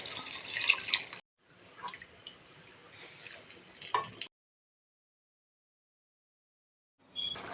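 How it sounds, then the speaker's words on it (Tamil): Water is poured in short bursts into a simmering sardine and pepper fish curry with tamarind, splashing and dripping close by with a few brief pauses and a longer gap of silence. "தேவையான அளவு தண்ணி ஊற்றிக்கலாம்"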